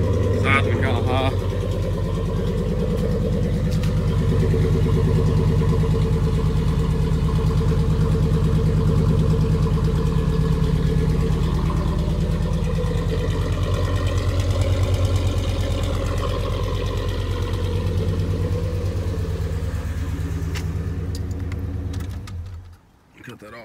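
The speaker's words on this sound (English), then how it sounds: "So, give you guys the exhaust clip. It's cold, so it's gonna sizing kind of high." A cold-started V8 in a lifted, engine-swapped Ford Ranger idles high through its exhaust, a steady deep rumble held close and loud for over twenty seconds before cutting off near the end.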